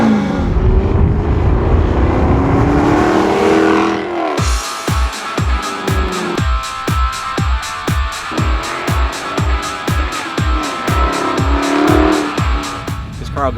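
A supercharged 5-liter Jaguar sports car engine drones and swells as the car drives, then a rapid string of sharp, evenly spaced percussive bursts rides over the engine note, repeating steadily as revs rise and fall.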